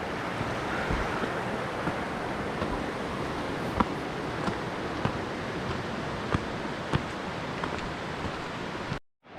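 A small waterfall on a creek along the Pratt River Trail in the Alpine Lakes Wilderness near North Bend, Washington, gives a steady, close, broadband rush of falling water with a few faint clicks, and no voices.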